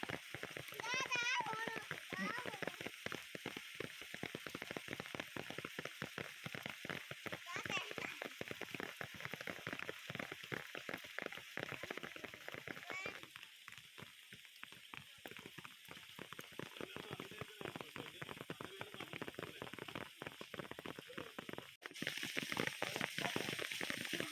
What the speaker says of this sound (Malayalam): മഴ തോർച്ചയേ ഇല്ല